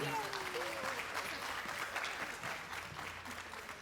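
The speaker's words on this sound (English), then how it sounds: "So if we can give them a round of applause." An audience at an elementary school literacy competition applauds a children's drama presentation, fairly faint, dense clapping with a few voices and whoops mixed through it.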